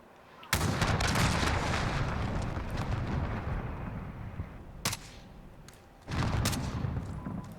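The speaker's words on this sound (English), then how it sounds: "Allied cruise missile on the way." Cruise missile strike in the Modern Warfare multiplayer video game, heavy booming explosions with a long rumbling roar, one after another across the clip, loud and close.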